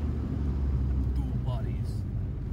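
A Ford XR2 engine fitted with throttle bodies runs steadily, giving a continuous low rumble that stays at an even level throughout, with faint mechanical chatter above it.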